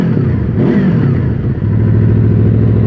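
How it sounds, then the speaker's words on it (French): A Honda VFR800X Crossrunner motorcycle engine with stock exhaust idles, then revs up sharply and settles into a steady, throaty idle at close range. "Je vais vous faire écouter le bruit du moteur"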